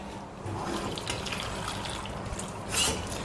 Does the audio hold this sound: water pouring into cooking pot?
yes